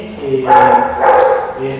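A small dog barks twice in quick, whiny yelps, loud and close, mixed with a person talking at the same time.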